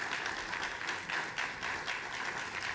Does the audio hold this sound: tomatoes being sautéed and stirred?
no